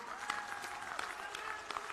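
A crowd at an election rally in Patiala claps together in a faint, distant patter of applause that stays steady for the whole short moment.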